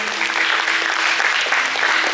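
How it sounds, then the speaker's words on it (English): Loud, dense applause fills a high school post-prom gathering, a steady roar of many hands clapping close by with a faint voice beneath it. "Give your friends a big round of applause"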